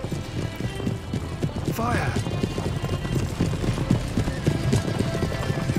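Horse teams gallop in Empire Total War with rapid, continuous clip-clop hoofbeats and a brief whinny, joined by distant battle noise under a shouted command and other game voices.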